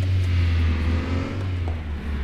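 A Moskvich 412 pulling away in City Car Driving, its engine a steady low drone held close and loud throughout, with no other sound over it.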